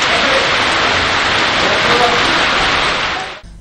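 Heavy downpour with thunder and lightning over Sukkur and its surroundings, a dense, steady roar of rain filling the whole clip before cutting off sharply near the end, with no distinct thunderclap.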